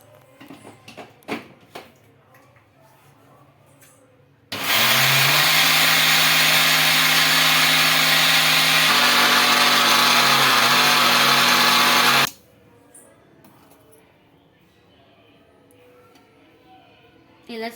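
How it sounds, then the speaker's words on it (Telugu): A kitchen mixer grinder blends sugar into a fine powder, a loud steady motor whine starting abruptly, running continuously for about eight seconds and cutting off, with quiet speech and small handling noises before and after. "బాగా స్మూత్ గా గ్రైండ్ చేసుకోవాలి"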